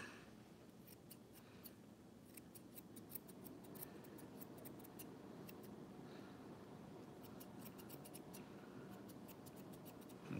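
Scissors snip hair in quick, crisp bursts of short clicks, close and fairly faint, with pauses between runs of cuts over a soft background hiss.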